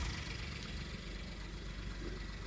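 A 2018 Suzuki Baleno engine idles just after an oil and filter change, a steady low even rumble heard close and alone, with no voices.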